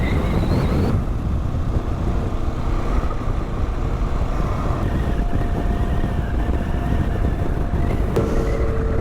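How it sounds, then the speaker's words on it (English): Strong wind roars and buffets a microphone continuously on a mountain road in Colorado, a dense low rumble with a faint motorcycle engine hum underneath. "it's extremely windy out, getting blown all over the road"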